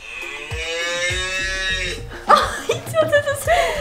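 A cow moo played from a dog-training phone app, a long drawn-out harmonic low, followed by people laughing and chuckling nearby.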